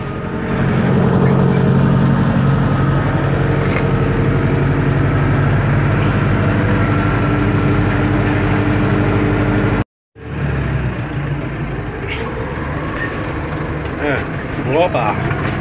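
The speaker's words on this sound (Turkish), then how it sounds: "Güzel bir traktör." An LS 60 4x4 tractor's diesel engine idles loudly and steadily up close, a low rumbling drone that cuts out briefly before resuming, while someone talks over it.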